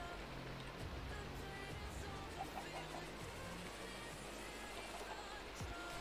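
Steady rain falls throughout, a continuous broadband hiss with some low rumble beneath, loud and even with no pauses.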